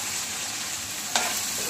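Onions and chillies fry in hot oil, a steady loud sizzle with a single scrape of stirring partway through.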